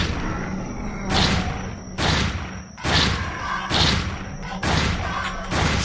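Five heavy shotgun blasts from the zombie video game Zombocalypse boom out at a steady, evenly spaced rhythm, each a loud, deep thump over a rumbling game background.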